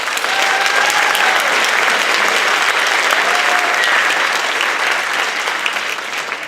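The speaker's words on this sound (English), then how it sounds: "one more huge round of applause for our amazing team" Sustained, dense applause from an audience at a high school band's senior awards ceremony, steady and loud throughout before tapering slightly at the end, with no voices over it.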